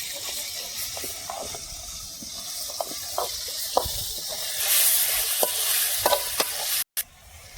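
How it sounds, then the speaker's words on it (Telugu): Onion and tomato frying in a pan for a country-style chicken gravy: a steady hiss and sizzle with scattered spoon-stirring clicks and scrapes, close and moderately loud, with a brief dropout near the end. "ఉల్లిపాయ టమాటా వేసుకొని కొంచెం బాగా ఏగనిద్దాం"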